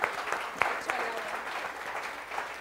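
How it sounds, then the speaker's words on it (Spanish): A church congregation claps to welcome a first-time visitor at a Sunday service, a soft, scattered patter of hands with a few sharper claps standing out, fairly distant and even throughout. "Un aplauso para él."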